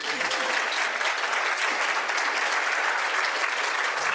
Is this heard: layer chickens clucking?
no